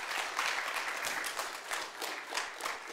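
A church congregation applauds its veterans during a worship service, with dense steady clapping throughout and a few scattered voices mixed in.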